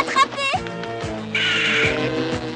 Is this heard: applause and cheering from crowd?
no